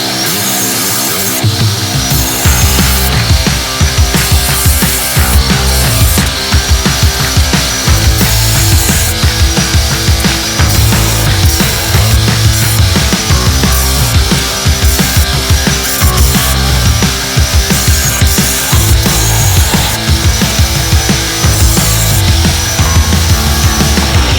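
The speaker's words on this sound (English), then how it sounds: "I'm finally going to take out these cab braces" Loud power tool cutting out the steel cab braces of a 1960 Ford F100 truck, a continuous harsh, rapidly pulsing cut heard close up for the whole stretch, no talking.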